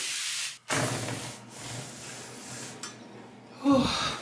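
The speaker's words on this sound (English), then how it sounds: "I'm gonna get this glass cleaner, which is amazing, y'all. I'm gonna go ahead and spray it on here." Glass cleaner is sprayed onto a bathroom mirror and tiles. Close, continuous hissing bursts with brief gaps between them, then a louder rustle at the end.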